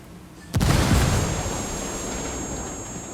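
Frag grenade exploding in the video game Ghost Recon Wildlands, a single sudden loud blast followed by a long rumbling, hissing decay, with a thin high ringing tone sustained above it.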